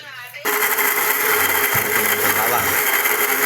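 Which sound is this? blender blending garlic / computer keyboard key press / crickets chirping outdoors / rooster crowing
blender blending garlic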